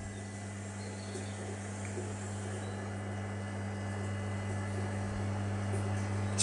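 A water mains booster pump runs submerged in a tank, giving a low, steady electrical hum under faint background hiss. The sound is quiet and unchanging, with no voices.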